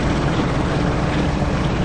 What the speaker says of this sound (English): It's the exhaust there, the vent fan kicking in.